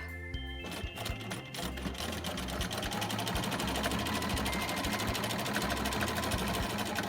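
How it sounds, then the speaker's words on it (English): A sewing machine stitches a quilted candy corn hot pad, back stitching and then running straight. After a brief start it settles into a continuous fast, close mechanical whir. "Then we're going to come over here, back stitch, and then just sew straight up."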